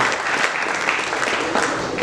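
Loud, dense applause from the audience at a Tamil film audio launch, a steady wash of clapping filling the hall without a break.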